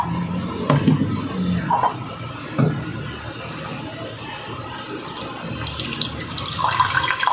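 Water runs from a tap into a container, a steady splashing flow with a few knocks and clunks along the way and a rise in the pour toward the end.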